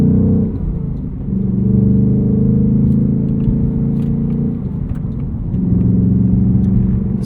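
A 2024 Ford Mustang Dark Horse with its 500 hp engine and six-speed manual revs during manual rev matching, a loud close engine drone that dips briefly and then rises again in repeated sustained blips, with no talk.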